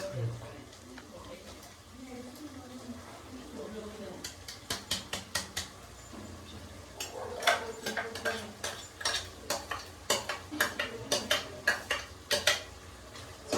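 Masala being stirred into fried ginger garlic paste in a pan for pudhina chicken, with repeated sharp scraping and clinking of a spatula against the metal pan, loud and close, faster and denser in the second half, over faint background talk.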